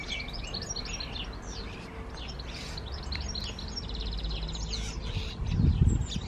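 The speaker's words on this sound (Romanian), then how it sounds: "Să vă arăt câte păsări au venit să mănânce în grădină." Many small birds chirp and tweet together in a garden, a busy layer of overlapping high calls with a steady outdoor background and a low rumble near the end.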